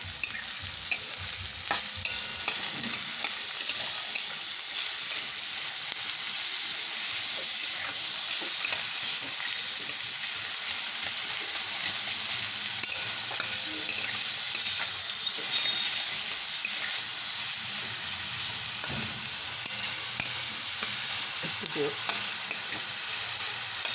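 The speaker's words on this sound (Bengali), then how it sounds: "পেঁয়াজটা অনেকটাই ভেজে এসছে" Chopped onions with a little salt fry and are stirred in a pan, a continuous dense crackling sizzle with scraping stir sounds throughout, close and steady, with no talk.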